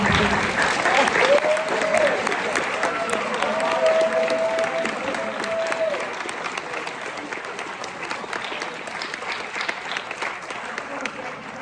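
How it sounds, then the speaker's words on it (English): A school winter band concert audience gives sustained applause for a teacher, a thick crowd clapping that fades slightly over time, with a voice talking briefly over it early on. "Can I just have a big round of applause for Mr. Dixon?"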